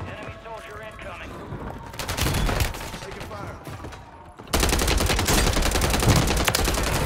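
Rapid automatic gunfire crackles in a Call of Duty Warzone Rebirth Island match, with sparse shots at first and then a dense, loud sustained burst of rattling fire to the end, while a voice talks over it.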